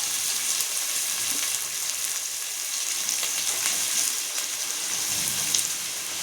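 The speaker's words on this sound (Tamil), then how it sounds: "எண்ணெய் சூடு எரித்து சோம்பு கொஞ்சம் போட்டுக்கலாம் வெங்காயத்தை போட்டுக்கலாம்" Onions and fennel seeds fry in hot gingelly oil for a chicken curry, giving a continuous hissing sizzle like light rain, steady and close with no one talking.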